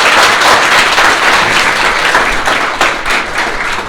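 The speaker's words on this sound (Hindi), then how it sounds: "तो एक बार इनके लिए भी तालियां बजाइए आप।" Dense, steady applause from a school audience honoring a government school teacher, a continuous wash of many hands clapping together for about four seconds, loud and close with no talking over it.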